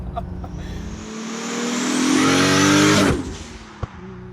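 A 400 whp Nissan Stagea 260RS revs hard in third gear, its engine note climbing loud and close over a couple of seconds before the throttle lifts and the sound drops away abruptly.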